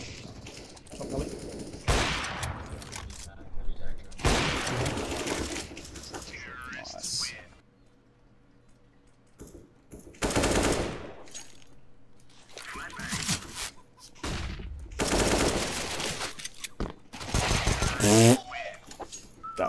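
Video game gunfire, apparently an AK rifle, rattles out in several loud bursts of shots, separated by short quiet gaps, with players talking between and over the volleys.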